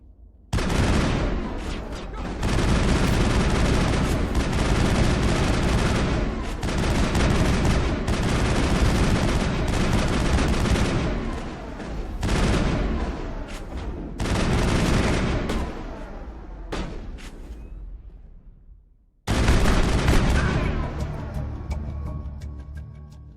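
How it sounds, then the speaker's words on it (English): Loud, dense gunfire in a Mass Effect firefight on Virmire, bursts of automatic shots running almost nonstop with brief lulls and one sharp cutoff before a final heavy volley. "Open fire!"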